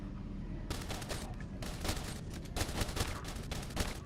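Defense turrets in the video game They Are Billions fire at the infected in rapid, dense bursts of crackling gunfire that start and stop, steady and unbroken by talk.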